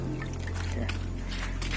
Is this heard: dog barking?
no